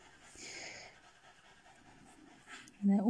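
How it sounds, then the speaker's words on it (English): A dog pants softly in the background, faint and steady, with a louder sound surging near the end. "Excuse the noise of the dog in the background."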